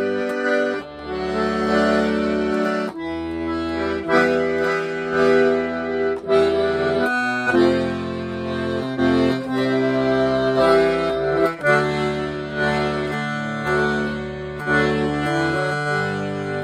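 Accordion plays Free Bird with right-hand arpeggios over sustained bass chords, a steady, full-sounding instrumental passage with no talking.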